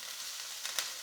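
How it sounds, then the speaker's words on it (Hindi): Vegetables sautéing in a pan for a homemade Subway-style sandwich, a steady soft sizzle with two brief stirring scrapes near the end, no voices. "तो दोस्तों, हम इसे सौते कर लेंगे सारे वेजिटेबल्स को।"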